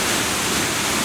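Loud, steady broadband roar of water pouring over Ludlowville Falls, heard close and continuous with no voices over it.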